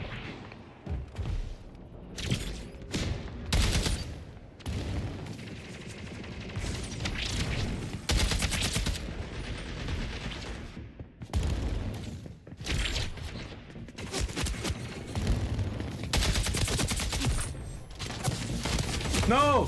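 Gunfire in the Splitgate 2 video game: repeated loud bursts of shots and weapon mechanism clicks, alongside game voice lines and a player talking over the action.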